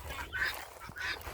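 Hens in a homemade backyard chicken coop in late winter give two squawking, honk-like calls a moment apart, fairly faint and set against a low background rumble.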